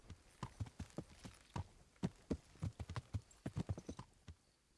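Steady clip-clop of horse hooves in the video game Kingdom Come: Deliverance, a brisk run of distinct hoofbeats at close range with no other sounds.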